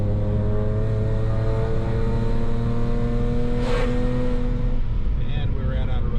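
BMW 335xi with an N54 engine on an ethanol tune revs under load against the brakes, a steady loud drone with strong harmonics rising through the RPM range and then dropping off near the end.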